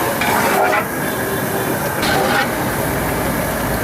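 Whole spices such as cloves and green cardamom frying in oil for chicken korma, a steady broadband sizzle with faint stirring scrapes, continuous and close, without talk.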